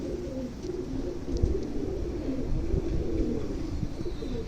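A white-eyed Punjabi pigeon coos in low, soft, repeated throaty calls, close by, with no talk over it.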